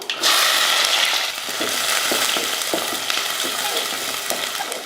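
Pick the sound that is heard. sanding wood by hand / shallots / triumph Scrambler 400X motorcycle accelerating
shallots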